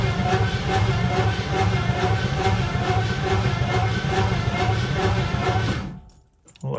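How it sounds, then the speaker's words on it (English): Jaguar V12 cranking on its starter without an exhaust fitted, a loud, rapid, rhythmic chugging that runs steadily for about six seconds, then cuts off into near silence. "Ooh, it cranks. It's going to sound weird because there's no exhaust on it"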